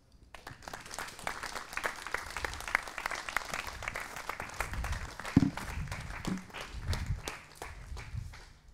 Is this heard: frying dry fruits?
no